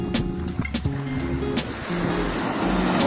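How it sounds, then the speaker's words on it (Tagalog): Sea waves wash steadily onto the shore in light drizzle at dusk, a continuous broad roar that swells louder toward the end, with a low steady hum beneath. "Kalma pa rin naman yung tunog ng dagat."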